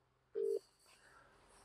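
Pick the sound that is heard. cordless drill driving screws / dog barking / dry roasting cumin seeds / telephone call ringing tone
telephone call ringing tone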